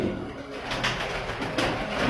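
A pigeon coos steadily at close range, a soft continuous murmur lasting a couple of seconds with no one talking over it.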